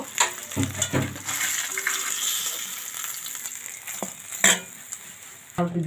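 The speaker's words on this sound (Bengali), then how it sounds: "মাছ ভাজা হয়ে গেছে, এখন তুলে নেব।" Fish, small Chinese puti, frying in hot oil in a pan, a steady close sizzle running throughout with a few sharper spatters and scraping stir sounds near the start and end.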